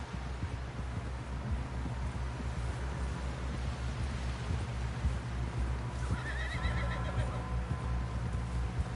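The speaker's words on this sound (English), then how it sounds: "Someone help John down off this horse." A horse in the video game Red Dead Redemption 2 whinnies loudly over steady hoofbeats clip-clopping at a trot, with a constant low rumble underneath.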